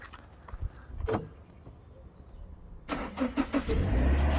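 A Subaru Forester SJ engine cranks and catches after a short click from a remote starter, then settles into a steady idle, fairly close and moderately loud.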